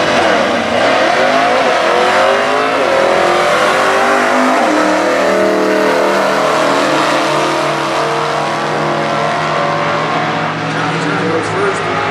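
Stock eliminator drag race cars, including an '85 Mustang with a 302 and a PT Cruiser, accelerating down the strip at the US Nationals: loud, close engine roar climbing through gear changes, with race commentary over it.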